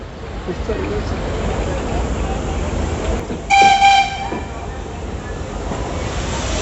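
A steam locomotive on a Pakistan Railway safari train between Lahore and Kartarpur gives one loud whistle blast lasting under a second over a steady rumble of the moving train and outdoor noise.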